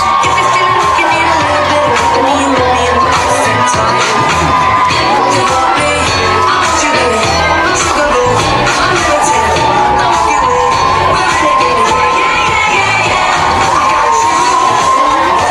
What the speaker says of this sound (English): Crowds are going absolutely berserk for some free promotional items